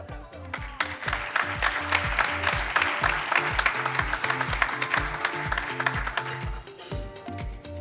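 At a research and innovation award ceremony, an audience applauds continuously over loud, rhythmic background music with a pulsing bass line, and the clapping swells and then fades toward the end.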